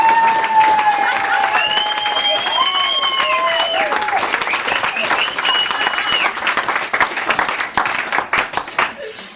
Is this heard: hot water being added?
no